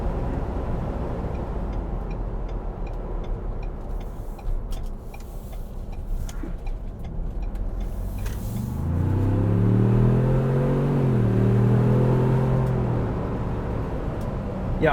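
A 2021 Ford Bronco Wildtrak 4-door soft top with a 10-speed automatic drives at speed, with a steady road and engine rumble that swells into a rising acceleration note with audible shifts partway through.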